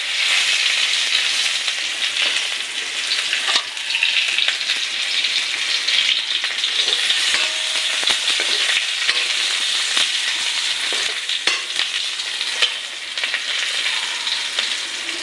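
Onions frying in hot oil, a dense, even crackling sizzle that holds loud and steady for the whole stretch, with a few brief pops and no speech.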